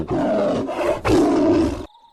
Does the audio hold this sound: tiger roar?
yes